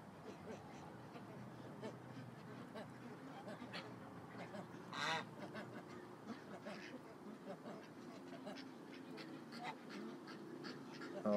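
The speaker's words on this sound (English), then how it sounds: "It is the smallest duck here" Ducks quack and chatter intermittently in a busy outdoor enclosure, one of them a tiny non-mallard, with soft calls scattered throughout and one louder burst midway, under a continuous background murmur.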